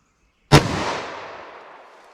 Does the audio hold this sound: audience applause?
no